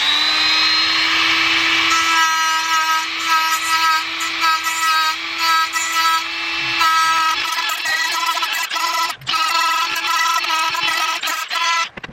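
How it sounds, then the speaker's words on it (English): Power sander working the edges of metal brackets, a loud continuous high whine that shifts pitch as pressure changes, then breaks into short intermittent bursts toward the end. "I'm going to go ahead and sand the edges so that way they're not so pointy"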